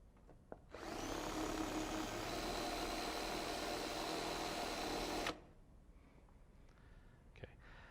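A power driver drives self-tapping screws into undrilled panel holes while assembling a Carrier OptiClean unit, a steady loud whirring run of about four seconds that stops abruptly, then faint handling clicks.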